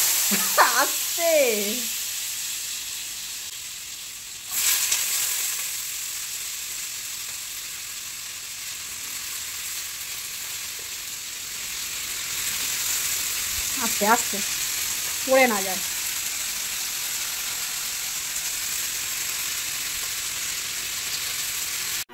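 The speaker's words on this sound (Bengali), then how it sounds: "আমি এখন অমলেট বানাচ্ছি," Omelettes seasoned only with salt fry in oil in a pan, giving a steady close sizzle throughout, with brief bits of speech over it.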